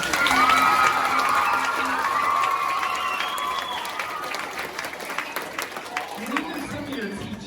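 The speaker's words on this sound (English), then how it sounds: "Will you give them one more round of applause?" Elementary school audience, many of them children, applauding and cheering loudly for a high school band drum ensemble, with whoops and shouts over continuous clapping that gradually thins out toward the end.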